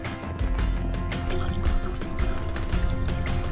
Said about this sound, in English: There is a substantial wash basin with both hot and cold water running.